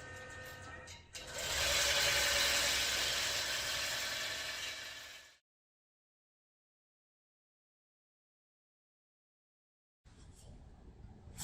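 A quilting machine stitches out a crosshatch edge-to-edge fill pattern, a loud steady mechanical whir for a few seconds before stopping, followed by silence and then a faint restart.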